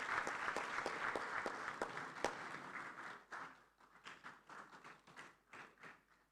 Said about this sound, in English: Please, a round of applause for her as she takes the podium.